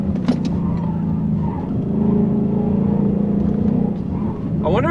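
A 4-cylinder Ford Mustang EcoBoost drives a track lap, its engine droning steadily from inside the cabin, rising slightly midway, with someone talking briefly over it.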